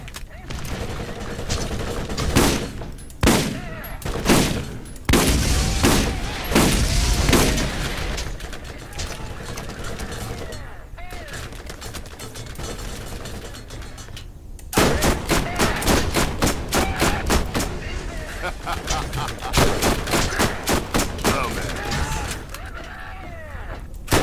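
A grenade blast and bursts of rapid gunfire from the Borderlands video game, with loud, repeated shots in dense volleys and thuds, broken by brief pauses, while someone talks at times.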